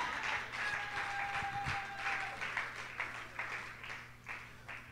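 A church congregation claps and applauds in repeated bursts, moderately loud, with a steady sustained tone running underneath.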